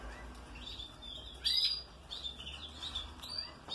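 A canary chirps in quick bright bursts, with one louder trill partway through and softer tweets around it, heard fairly close over faint background hiss with no talking.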